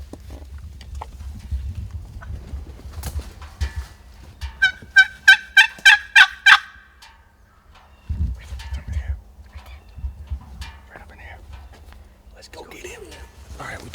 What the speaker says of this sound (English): made a call, just got him to gobble